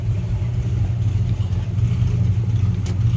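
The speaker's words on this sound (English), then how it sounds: "Great sounding flatty underneath there." A 1951 Ford F1 pickup with a flathead engine idles, heard from the rear near the exhaust downspouts behind each wheel: a deep, steady, rumbling burble, close and continuous, with no one talking.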